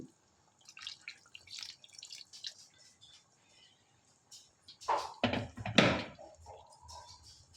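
Hot water poured into a pan of chicken kosha, heard as a short, close splashing burst late in the clip after quieter drips and light kitchen clatter.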